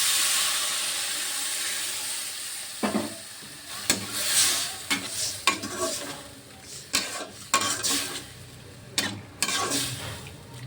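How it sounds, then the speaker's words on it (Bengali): Pointed gourd leaves frying in a pan with katla fish and prawns as broth goes in, giving a steady hiss and sizzle with scattered stirring scrapes and utensil knocks, close up, with no talk. "এটা ভালো করে ভেজে নিয়েছি। এবার ঝোল দিয়ে দেবো।"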